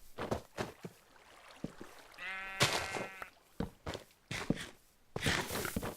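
Sheep bleating in the video game Minecraft, a single wavering bleat rising clearly amid scattered clicks and footsteps, with nobody talking.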